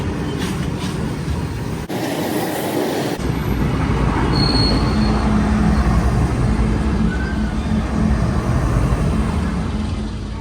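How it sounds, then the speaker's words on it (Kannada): A train rolling in near Hosapete by the Tungabhadra, loud and close, with a continuous heavy rumble of wheels and carriages, a brief high squeal and a long low tone running underneath. "ಕರೆಕ್ಟಾಗಿ ವಿಡಿಯೋ ಮಾಡ್ತಿರೋ ಟೈಮ್ಗೆ at the same time train ಬಂತು."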